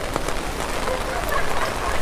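Rain falls steadily at Tokyo DisneySea, a continuous close patter and hiss of drops on surfaces, with faint voices mixed into the downpour.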